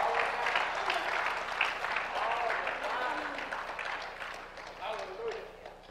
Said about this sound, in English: Can we give God a clap of praise for that?